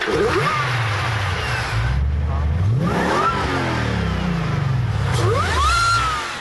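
A Lexus 4-litre V8 roadster, either Sprintex supercharged or normally aspirated, revs loudly and close, its engine note climbing and falling through several sweeps as it accelerates and passes, under continuous roaring.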